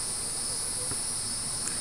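Steady cricket chirping fills the background, a continuous high insect trill that stays even and moderately loud throughout with no voices.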